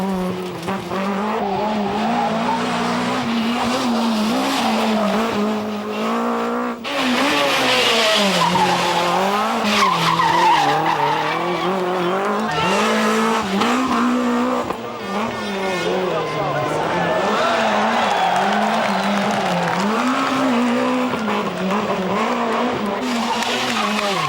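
Rally cars racing at the Rallye du Var near Toulon, with engines wailing up and down through gears and tires squealing, loud and continuous, with speech mixed in over the roar.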